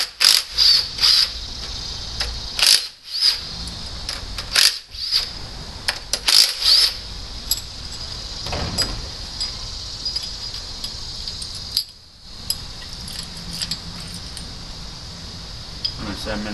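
Metal rocker arms from a 1.9L engine are handled and set into a valve cover, giving close, bright clinks and jangles in scattered bursts, with pauses and quieter handling noises between them.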